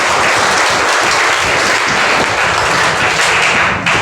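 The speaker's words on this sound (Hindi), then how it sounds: "एक और इसके बच्चा नाम पर भी ताली उसको बजा के" An audience applauds at a talent award ceremony for students in Gaya, a loud, dense, continuous clapping that fills the whole stretch without pause.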